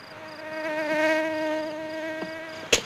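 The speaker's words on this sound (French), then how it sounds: "La moustique." A mosquito whines with a steady high-pitched buzz, close and fairly loud for a few seconds, ending with a sudden sharp slap.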